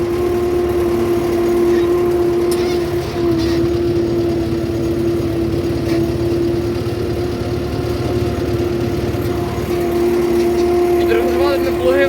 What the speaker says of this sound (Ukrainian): Ань по звуку чути, що трактор легше став.